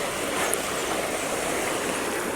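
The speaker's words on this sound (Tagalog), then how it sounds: "Napakaganda ng ilog." A flowing river rushes in a steady, even broadband wash, heard from nearby and alone, with no voices over it.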